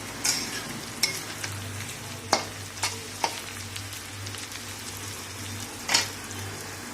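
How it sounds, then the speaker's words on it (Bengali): Onions sautéing in a pan before meat goes in, a quiet steady sizzle over a low hum, punctuated by a few sharp spoon taps and scrapes. "পেঁয়াজটা অনেকটা কষা হয়ে গেছে, আর একটু হয়ে গেলে মাংসটা দিয়ে কষবো"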